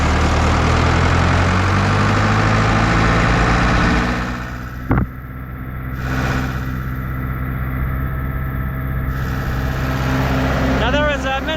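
White 2-135 tractor engine running with the PTO engaged while hauling silage, a loud, continuous low diesel rumble close by that eases slightly midway, with a brief clunk and faint mechanical whine.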